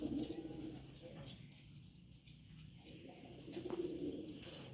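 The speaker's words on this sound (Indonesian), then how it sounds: "Nah, ini merpati balapnya ini." Racing pigeons coo softly, one at the start and another near the end, with low rustling in between and no clear talk.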